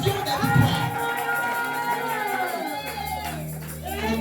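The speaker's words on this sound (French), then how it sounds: "Est-ce que les plus de vainqueurs peuvent pousser des cris de joie?" Congregation at a church service shouting cries of joy and victory, a loud sustained mix of cheering, whoops and raised voices from a crowd, with tones and music underneath.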